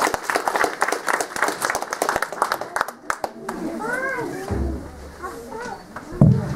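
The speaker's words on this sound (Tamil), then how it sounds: "அவங்களுக்கு இன்னொரு முறை கரகோஷம் எடுத்துவாங்க." Audience applause for a young speaker at an International Mother Language Day event, a few seconds of brisk crowd clapping that breaks off, followed by a quieter stretch with a voice and room chatter.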